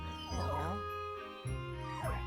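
Polterpup, the ghost dog in Luigi's Mansion 2 HD on Switch, lets out soft whimpers and yips, rising and falling in a few plaintive cries over a steady game music backdrop.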